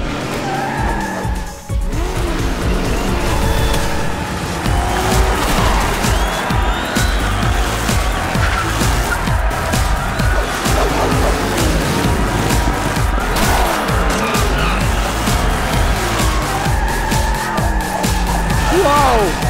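Cartoon hot rod cars racing, with loud tire squeals, skids and revving engines sweeping past in quick bursts over a constant roar, with brief voices between.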